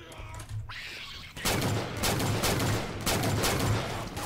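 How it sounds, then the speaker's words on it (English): DMR rifle from a Halo mod for Left 4 Dead 2, fired in a steady series of sharp, loud single shots about every half second, each with a short crackling tail, over continuous game background noise. "And this is the DMR sound."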